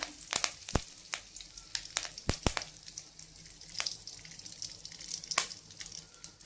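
Curry leaves hit hot oil and splutter, giving sharp, scattered pops and crackles over a soft, steady sizzle, close and fairly quiet.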